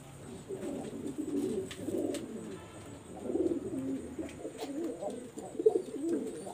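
Female Teddy pigeon, nine-feather type, cooing in low, throaty bursts that come in several soft rounds, close by and fairly quiet, with no talk over it.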